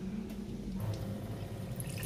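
Alkaline water at pH 8.5 streams steadily from a Kent water device into a container, a continuous close splashing and trickling flow with no talk.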